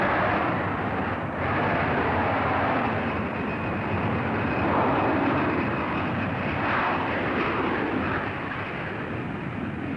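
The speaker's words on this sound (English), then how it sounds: "The Canadian Starfighters aerobatic team opened their performance with a formation takeoff." Lockheed F-104 Starfighter jets of an aerobatic team take off together in formation at an air show, a broad, steady jet roar heard from a distance with a slight swell midway.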